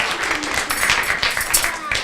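An audience at a library open house gives a young magician a lively round of applause, steady clapping from a small crowd throughout with some voices mixed in.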